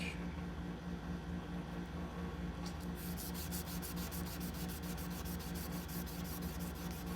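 A chef's knife blade is hand sanded to an 800 grit finish, steady close scratchy rubbing strokes turning into a fast regular back-and-forth rhythm, quiet and continuous.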